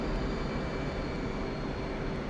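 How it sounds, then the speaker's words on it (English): F/A-18C Hornet jet engines hum steadily during flight in the DCS World simulator, a continuous even drone with a faint high whine, no sharp changes across the short stretch. "it takes a moment for the engines to spool up and to spool down"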